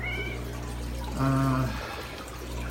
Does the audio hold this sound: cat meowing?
yes